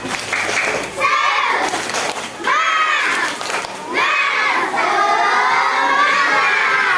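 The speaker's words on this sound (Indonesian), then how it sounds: "Tepuk semangat." Children in a classroom chant and shout together in a rhythmic 'tepuk semangat' cheer, with loud group voices rising and falling in several bursts and no clear gap between them.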